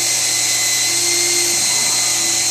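Steady, loud motor whine and blower hiss of a plastic extrusion welder running, purging hot material out of its barrel, a constant drone with a faint tonal hum and no speech.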